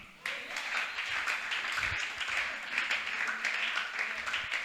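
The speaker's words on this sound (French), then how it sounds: "Et je veux que chacun acclame." An audience in a crowded hall breaks into steady applause and clapping, a dense continuous patter that starts abruptly and holds throughout.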